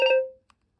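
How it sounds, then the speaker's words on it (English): A BT 6600 cordless telephone sounds one short ringtone note, a bright electronic tone that fades out within about a third of a second, followed by two faint clicks. "I'm going to turn the ringtone on this"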